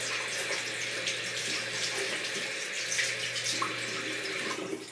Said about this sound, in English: I'm just gonna rinse off a little in my hands.